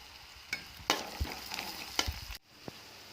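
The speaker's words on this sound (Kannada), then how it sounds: "ನಾನು ಇದಕ್ಕೆ ಸಾಂಬಾರು ಸೊಪ್ಪು ಹಾಕ್ತಿದ್ದೀನಿ" Coriander leaves added to potato curry frying in a pan, soft sizzling with a few stirring scrapes and light taps against the pan, close and quiet.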